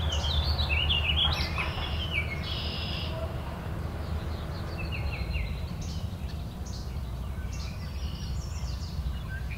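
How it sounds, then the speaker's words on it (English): A least flycatcher sings outdoors, repeated high chirping notes at a moderate distance over a steady low rumble of background noise. "Least flycatcher."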